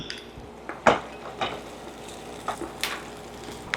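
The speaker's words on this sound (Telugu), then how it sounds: "అట్లా కలిపేస్తున్నా ఒక్కసారి." Pulihora rice being mixed in a pot, with soft scraping strokes and a few sharp clinks of a spoon against metal, fairly quiet and close, with no talking.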